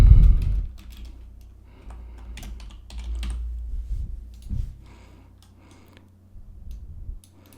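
Rapid typing on a computer keyboard during a game-engine water material tutorial, a close burst of clicking keystrokes that thins out, with a brief pause before a few more keys.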